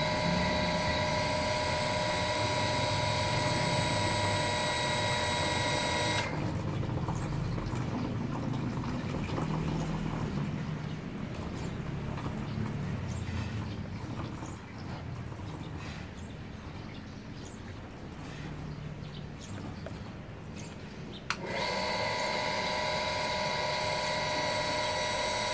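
An electric household water pump with a partly opened tap runs with a steady mechanical hum and rushing water, with a clear switch-off and switch-on, heard alone.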